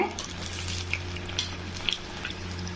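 Sabudana vada patties (sago fritters) sizzle in hot oil, a steady close crackle with small pops scattered through.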